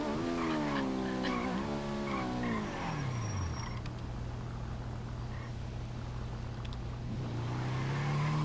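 Car in NoPixel, a GTA-based roleplay game, brakes hard and skids, with loud sustained tire squeal and engine tones sliding down in pitch, then a steady whine as the car keeps sliding.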